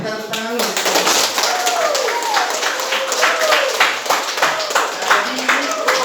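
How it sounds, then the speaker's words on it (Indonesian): A school class claps hands together, a dense burst of close, loud clapping with voices and bright shouts mixed in throughout. "Kita tepuk tangan dulu."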